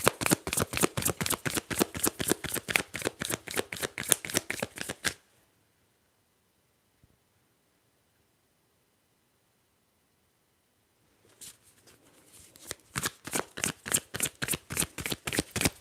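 A tarot deck is shuffled in a rapid riffling burst, then silence for several seconds, then another quick run of riffling.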